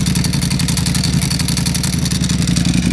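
A Ducati Panigale V4 SP2 with its V4 engine, Stage 2 ECU flash and dry clutch runs loud and close, a steady deep bassy drone with a rattling, clattery texture holding unbroken for the full stretch without any talking.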